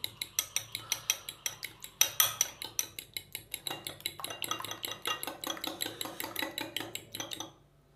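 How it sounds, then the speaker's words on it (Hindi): Two eggs whisked in a bowl, a fast, steady run of bright metallic clinks and taps against the bowl, close and crisp, continuing for about seven seconds before stopping abruptly. "2 अदद अंडे लिए, अंडों को हम अच्छी तरह फेंट लेंगे"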